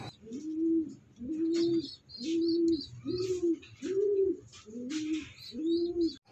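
Pigeons coo in a steady rhythm, seven low rolling calls in a row, close by, with faint chirping birds in the background.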